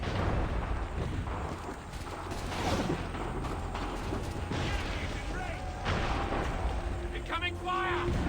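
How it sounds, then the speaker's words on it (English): Artillery fire booms in the Assassin's Creed 3 video game, heavy low rumbling blasts under continuous battle noise, with voices shouting and talking over it. "Incoming fire!"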